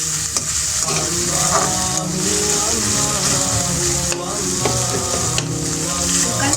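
Chicken samosa filling with Chinese spices frying in a pan, a loud continuous sizzle with stirring and scraping of the spatula throughout, close up and steady.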